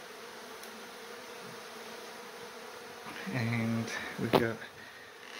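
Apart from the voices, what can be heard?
bees buzzing during kitchen beehive relocation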